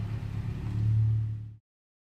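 A Honda EP3 drives off a dyno, its mid-pitched engine rumbling steadily and swelling louder before cutting off abruptly after about a second and a half, leaving silence.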